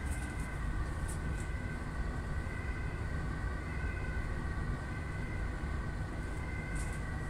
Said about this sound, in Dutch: Oeh, sirenes.